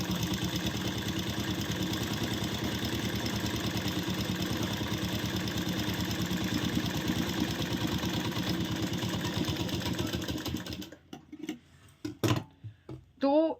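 A sewing machine runs a long, coarse gathering stitch on a blouse, a fast, even mechanical clatter that continues for about ten seconds and then stops, followed by a few short bumps and handling noises.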